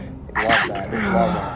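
A single sneeze bursts out near the start, followed by a brief spoken response from people nearby in a casual indoor conversation.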